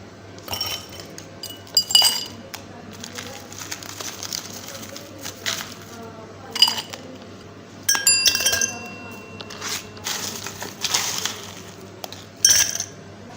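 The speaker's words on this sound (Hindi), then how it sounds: "ग्लासेस में बर्फ़ डालेंगे" Ice cubes dropped into glasses before serving watermelon juice, giving repeated bright clinks and rattles in irregular bursts, close and fairly loud, with brief quiet gaps between drops.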